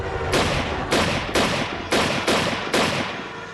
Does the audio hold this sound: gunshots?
yes